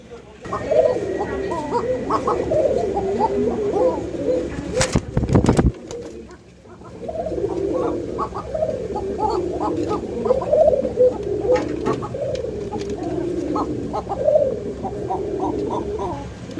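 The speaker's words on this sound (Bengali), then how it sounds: "মনে রাখবেন নর মাদি দুইটাই কিন্তু ডাকবে ডাক পাবেন" White Arabian coca pigeons, male and female, coo repeatedly in a loft, with a steady series of throaty rolling calls and a short burst of noise partway through.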